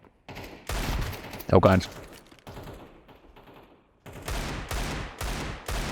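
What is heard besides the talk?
Desert Eagle pistol gunfire in a video game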